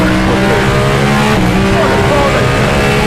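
An extremely loud car engine roars continuously on a race track, close and dominant for the full few seconds, with a deep rumbling tone and a brief pitch shift midway.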